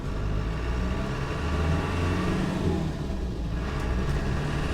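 A 1989 Land Rover Defender 110 with the 200Tdi diesel engine pulls away, its steady low engine drone and road rumble continuous and close throughout, with no voices.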